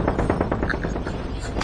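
Sniper gunfire in the Battlegrounds multiplayer video game comes as a quick series of sharp cracking shots with short echoing tails, fairly loud and close, heard alone without talking.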